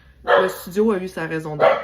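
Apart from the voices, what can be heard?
dog barking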